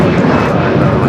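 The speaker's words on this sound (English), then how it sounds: "We do have a 777 freighter lining up here on the south side. Clear for takeoff." Boeing 777 freighter jet on its takeoff roll at LAX, a loud, close, steady roar of engine thrust filling the whole moment.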